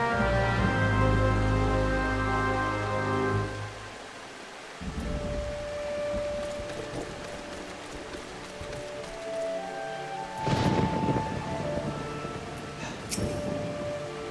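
Rain and thunder in the video game Final Fantasy XIV: a deep low rumble fades out over the first few seconds, then steady rain noise continues with occasional louder bursts, mixed with faint game music.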